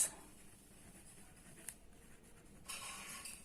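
Faint chalk or marker strokes on a classroom board during a maths lesson on statistics, a few soft scrapes and taps over a quiet room hush, no voices.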